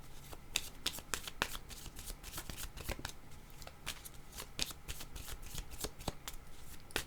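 Oracle cards shuffled close up, a run of quick, irregular riffling snaps and flutters, faint and alone.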